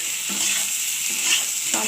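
Boiled potatoes and catla fish being gently turned in a pan, with soft scrapes every second or so over a constant close sizzle; no talking.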